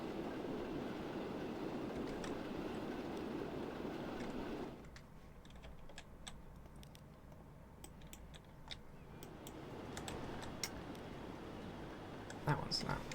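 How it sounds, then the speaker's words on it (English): Trains in the railway-building game Transport Fever 2 roll along with a steady rumbling, clattering rail noise that drops away partway through, then builds again. Light clicking from a keyboard or mouse runs alongside. "we can release all the trains that we have stopped"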